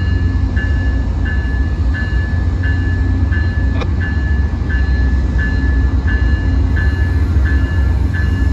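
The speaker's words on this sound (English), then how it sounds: "I think it's waiting for one more train." A steady, loud rumble of a passing train at San Jose, with rhythmic clicking from the wheels at regular intervals, continuous throughout.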